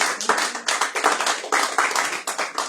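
A church congregation at a Sunday worship service claps together in a fast, steady rhythm, dense and close, with no talking.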